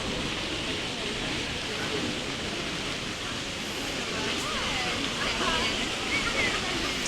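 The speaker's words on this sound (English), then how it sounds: "So here's the water fountain." Steady, continuous splashing of a garden water fountain at the Palais Royal in Paris, a broad rushing wash with no breaks, fairly close and even in loudness throughout.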